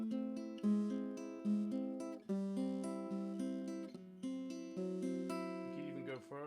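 Guitar chords move through a descending line: minor, minor major 7, minor 7, then minor 6. Each chord is struck and left to ring, about one per second in a steady rhythm, close and clear with no voice over it.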